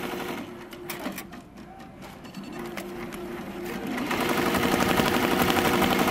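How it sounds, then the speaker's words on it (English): An embroidery machine stitches a logo at 720 stitches a minute, a steady rapid mechanical whir and needle patter close by that grows louder partway through. "We're stitching at 720 stitches a minute"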